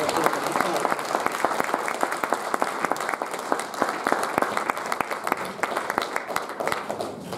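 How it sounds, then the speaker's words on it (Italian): Audience applause at a cultural event in Gavoi, Sardinia, a dense, steady clapping from a crowd lasting throughout, loud and close with sharp individual claps standing out. "Intanto abbiamo un applauso a Salvatore."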